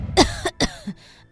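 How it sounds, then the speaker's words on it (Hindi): Three or four sharp, harsh coughs in quick succession, close and clear, with no speech. "खांसते हुए आती है"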